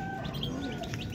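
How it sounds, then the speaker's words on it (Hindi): Chicks chirp and tweet while being fed millet, in quick, high bursts, a busy overlapping twitter close by with a steady low background hum. "दाना डाल दिए मैंने चूजों को"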